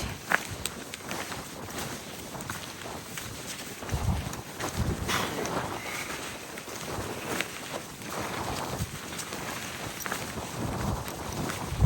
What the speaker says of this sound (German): dieser Wind peitscht uns hier um die Ohren